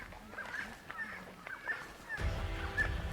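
A friarbird in Komodo National Park gives repeated harsh, honking calls at a steady pace, moderately close, over a low background rumble that grows louder toward the end.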